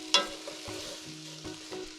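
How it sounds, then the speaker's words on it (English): Asparagus tips cooking in a pot are stirred, with a sharp utensil clink at the start, then soft scraping and gentle bubbling close by. "So let's give this a stir."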